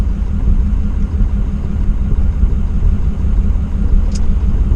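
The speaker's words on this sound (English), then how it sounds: "There's another truck coming in the plant." Truck rolling into a gravel quarry plant, a steady low engine rumble nearby with no talking.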